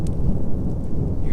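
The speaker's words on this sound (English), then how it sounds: "Hear that thunder?" Low thunder rumbles through a storm at a campsite beside a truck tent, a deep, rolling boom that carries steadily over the faint hiss of rain, with no talking.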